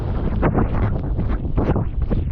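Strong wind buffets the microphone out on a lake during kayak fishing, a loud, close, gusting rumble that swells and dips continuously.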